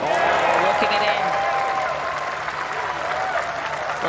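Spectators at the Honda LPGA Thailand women's golf tournament applaud a birdie putt on the 18th green, a loud, sustained burst of clapping and cheering that fades gradually, with a commentator talking over it.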